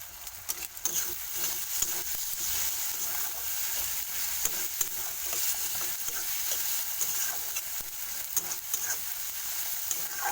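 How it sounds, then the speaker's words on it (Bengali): Spices, chilli, cumin and ginger water sautéing in a pan for a Bengali rohu fish curry, a steady bright sizzle with scraping stirs throughout, close and continuous, no talk. "আদার জলটা ভালো করে কষিয়ে নেব"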